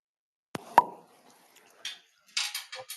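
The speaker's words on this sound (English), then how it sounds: "Like that cork pop." A cork pops out of a bottle with a sharp, single pop, followed by quieter handling sounds and faint noises after it, with no talk.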